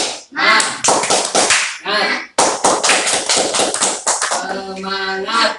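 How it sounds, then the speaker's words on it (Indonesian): Students in a classroom perform a rhythmic 'tepuk semangat' spirit clap, loud sharp claps in patterned bursts with short pauses, ending with voices chanting together over the final claps. "1, 2, 3, tepuk semangat."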